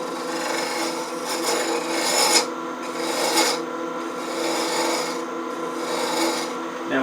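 A wooden clamshell box lid is sanded through successive grits, with repeated rasping strokes rubbing back and forth close up in a steady rhythm, and no talking.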